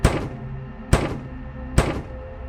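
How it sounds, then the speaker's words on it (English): Three heavy thuds strike at regular intervals, like a fist pounding on a restaurant's back door, each one loud and short. "a sudden loud bang came from the restaurant's back door"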